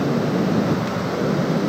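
The Rupin river rushes at a trekking crossing in Himachal, a steady, loud broadband roar of water that stays constant throughout.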